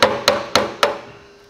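Four sharp metallic taps of a hammer striking a screwdriver, evenly spaced about a quarter second apart, each ringing briefly, while working loose an axle seal on a Troy-Bilt tiller; close up with no talking.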